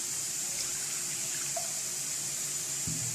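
Milk poured into a bowl while making a soft dough for croissants to serve with cauliflower and cheese soup, a steady continuous liquid pour heard close up without talk.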